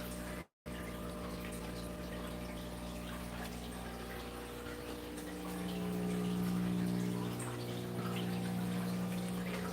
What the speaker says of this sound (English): Here's a sump system. These tanks are all hooked up on this sump.